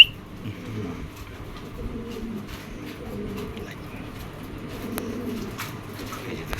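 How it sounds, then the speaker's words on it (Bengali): A female racing pigeon coos in low, soft, repeated murmurs, close by, over faint background noise. "এটা একটা মাদি কবুতর।"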